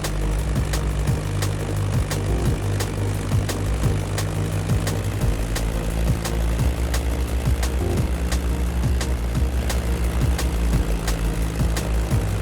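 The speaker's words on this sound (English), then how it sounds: "That Beechcraft Stagger Wing is truly a beautiful piece, isn't it? And a great choice for that flight." Beechcraft Staggerwing propeller biplane flying in The Crew Motorfest, a loud steady droning engine and prop buzz with rhythmic pulsing, close and sustained.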